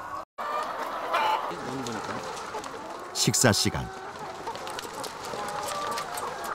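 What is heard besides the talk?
caged chickens clucking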